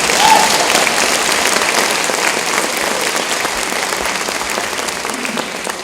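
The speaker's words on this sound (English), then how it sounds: "please clap for Dr. Bergen." A loud, sustained round of applause from an audience at a community coalition meeting on opioid abuse, welcoming Dr. Ann Bergen, a retired principal, steady and dense throughout.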